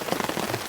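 Heavy rain pours steadily during a rainstorm while camping, a dense, continuous hiss of drops drumming on a nearby surface with no pauses, close and fairly loud.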